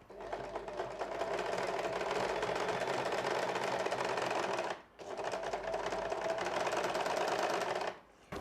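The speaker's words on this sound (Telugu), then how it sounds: "ఇలా పెట్టుకొని ఇప్పుడు మనం స్టిచెస్ వేసుకోవాలి." An overlock sewing machine stitches along a cloth edge, running in two steady, loud whirring bursts of about five and three seconds with a brief pause between them.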